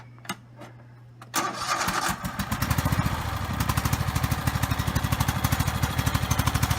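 A riding lawn mower engine cranks briefly, catches and settles into a steady, rhythmic putter that stays close and loud throughout, with clicks before it starts.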